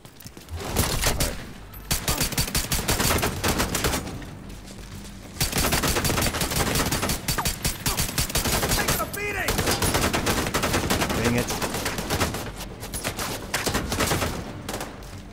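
Sustained gunfire in The Division 2 at Navy Hill, loud and continuous with dense bursts and rapid fire across most of the span, a few brief lulls between volleys.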